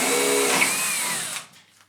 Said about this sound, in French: Pour la mise en œuvre de la fusée, avant toute chose, vous allez percer pour la 840 au diamètre 8.